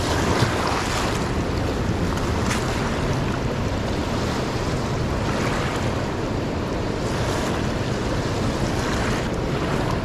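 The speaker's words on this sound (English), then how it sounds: "Oh, I just got splashed." A raging river rushes and splashes in a loud, unbroken roar close by, with gusts of wind buffeting the microphone and no voices.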